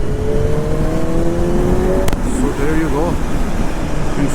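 A BMW M1000R naked sport motorcycle with ShiftCam variable valve timing pulls hard in fourth gear from about 50-55, its engine droning loud and steady with a rising tone, while someone talks over it.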